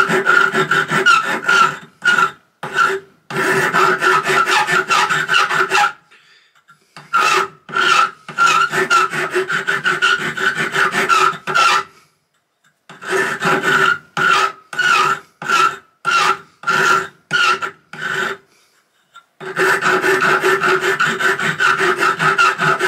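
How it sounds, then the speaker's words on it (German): Metal sleeve being filed flat, first with a coarse file and then with a needle file: repeated rasping strokes, close and loud, in quick rhythmic bursts separated by short pauses, with no talking. "Dann nehme ich erst eine grobe Feile und dann feile ich es mit der Schlüsselfeile plan."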